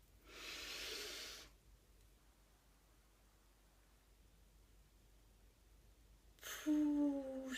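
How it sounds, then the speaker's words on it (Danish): Deep breathing during a guided breathing exercise: one long airy inhale lasting about a second and a half, a stretch of near silence, then a louder breathy exhale at the end, close and alone. "så er vi klar til at tage en dyb indånding"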